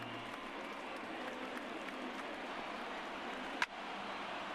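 A baseball stadium crowd of over 28,000 in MLB The Show 2019 makes a steady, fairly quiet roar with no clear swell, broken by one brief sharp knock near the end.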